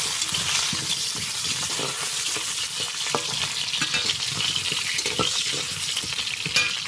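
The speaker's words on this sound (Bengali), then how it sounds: "আমি এদিকে আলুটা ভেজে নিচ্ছি" Potatoes fry in a pan with a steady close sizzle and crackle, a constant bright hiss broken by occasional stirring clinks, without any talk.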